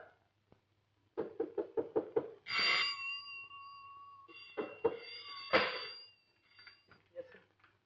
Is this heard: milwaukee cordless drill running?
no